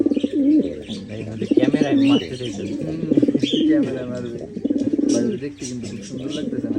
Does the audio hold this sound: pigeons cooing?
yes